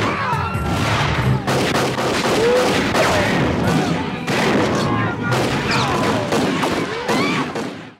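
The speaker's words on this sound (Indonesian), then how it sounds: "Terjadi perang bedil-bedilan di kota tersebut." Gunfight in a Western film scene set in a frontier town, with dense rapid gunshots and crashes firing continuously over a loud, busy mix, some voices shouting underneath.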